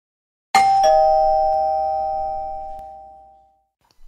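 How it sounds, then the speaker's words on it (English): A house doorbell rings once, a bright chime struck sharply and left to ring out in a long, slowly fading tone, heard clearly with no voices. "I'll go and ring the bell."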